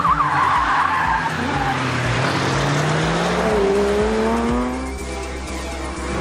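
A BMW M5 Competition engine with 625 horsepower roars at high revs on a track, pitch climbing steadily as it accelerates hard, with brief tire skids and squeals; loud, close, no talking.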